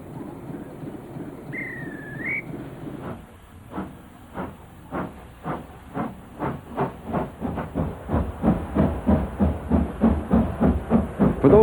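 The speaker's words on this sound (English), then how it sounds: "At Bridgnorth Station, you can board the finest preserved steam railway in Britain." A preserved steam locomotive on the railway at Bridgnorth Station, a brief whistle, then rhythmic exhaust chuffs that start slow and quicken and grow louder as the train pulls away under a steady hiss.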